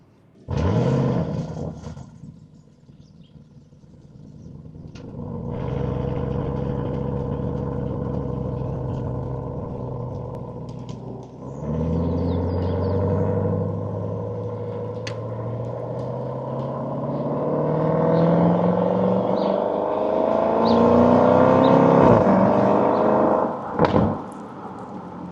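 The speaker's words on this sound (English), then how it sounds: "Pops and bangs. It's theatrical." An Audi RSQ8, the most powerful RS model, revs hard with a deep engine roar that climbs in pitch, and its exhaust lets out sharp pops and bangs, loud and close, with no talking.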